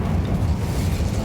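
Incendio fire spell from Hogwarts Legacy, a short, loud, rumbling burst of flame with a low, roaring texture that fills the whole moment without pause.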